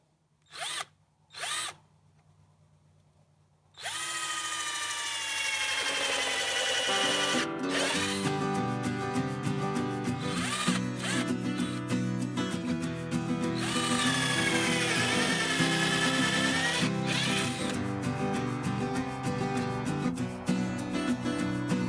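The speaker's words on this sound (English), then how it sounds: "now I can take the drill bit and drill the holes over here." A power drill whirs steadily for a long stretch after a few short clicks and knocks, its motor pitch shifting as it bores pocket holes in chicken coop framing, close and loud.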